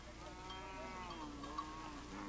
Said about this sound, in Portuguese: os meninos Nuer acompanham as vacas para o pasto